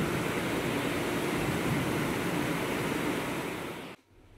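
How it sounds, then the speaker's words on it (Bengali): Heavy rain pours outside in a dense, loud, steady hiss that cuts off abruptly near the end. "এত বৃষ্টি হচ্ছে"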